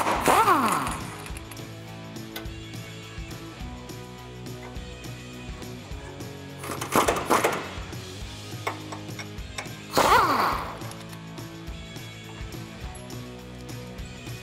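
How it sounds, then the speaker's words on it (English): An 18mm socket and wrench work loose a Jeep Wrangler JK sway bar link, giving near, loud bursts of ratcheting and metallic clanks at the start, middle and end, with quieter tool handling and faint rattles between. "Now we can use an 18mm socket and an 18mm wrench to remove our sway bar link"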